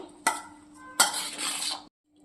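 Corn bhel ingredients, including chopped capsicum, are tossed in a bowl, with two sharp clinks of a spoon followed by a rustling, scraping mix that stops abruptly near the end; no one speaks.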